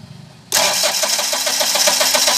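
A Mahindra Bolero Maxi Truck Plus diesel pickup with a starting fault and a failing diesel tank motor starts after a brief crank, then settles into a loud, steady rattling idle close by.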